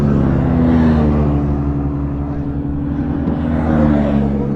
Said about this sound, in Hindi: और चलाने जा रहा हूँ मैं ड्यूक।